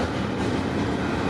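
A passing freight train of container cars, running between Edmonton, Alberta and Montreal, Quebec, rolls by close and loud as a steady, dense rumble of wheels and rail clatter with no break.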